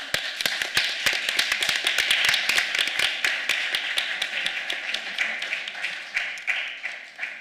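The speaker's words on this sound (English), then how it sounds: "I think we can give them a round of applause" Conference audience applauding a panel at the 2023 Siena Conference on the Future of Europe, sustained close clapping from a modest crowd that swells and then gradually thins out.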